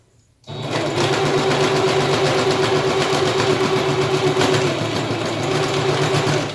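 A sewing machine runs continuously, stitching a fabric face mask, its motor humming loudly with a rapid, even needle clatter from start to finish.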